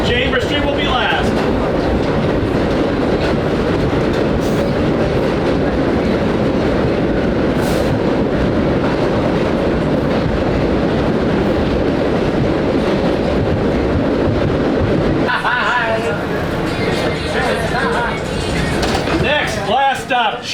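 Vintage holiday nostalgia subway train running on the NYC 1 line in Manhattan, with a loud, steady rumble and wheel noise throughout, then easing near the end as voices and announcements emerge over the quieter ride.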